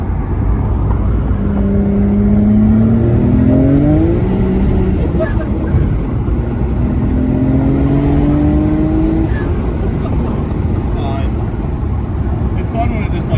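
A tuned street car with a full race ETS Pro setup drives and revs. Its loud engine climbs through several rising pulls, with the tone sweeping upward and then settling back, as people talk in the foreground.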